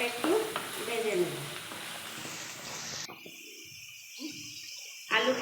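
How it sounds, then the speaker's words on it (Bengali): Cut potatoes frying in hot oil for a matar paneer dish, a bright sizzle with stirring scrapes that drops away partway and then flares up again briefly at the end. "আলুটাকে আমি ভেজে নেব, লাল লাল করে এটাকে একটু ভেজে নেব।"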